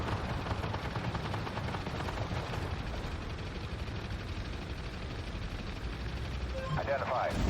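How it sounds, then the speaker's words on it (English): Gunfire from a Thunderbolt during a video game battle, a steady dense rattle of shots under continuous battle noise with a voice talking over it throughout. "The Thunderbolt's shooting at these guys."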